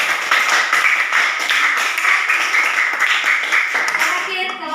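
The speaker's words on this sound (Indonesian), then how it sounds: "Ya, berikan aplaus untuk kelompok." A group of people claps steadily in a classroom for a presenting student group, a dense, loud burst of applause lasting several seconds before a voice begins speaking at the end.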